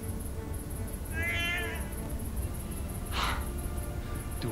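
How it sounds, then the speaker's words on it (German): A cat in a German detective audio drama meows twice, a drawn-out cry followed by a shorter one, fairly quiet over a low background hum. "das ist doch nur eine Katze"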